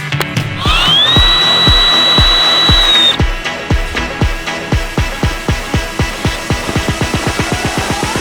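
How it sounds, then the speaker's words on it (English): A power drill whines steadily for a few seconds, then slows into a loud, even train of rapid ratcheting clunks as the bit bores into lake ice, close and with no talk. "I'm gonna grab the drill and let's see how deep this ice really is."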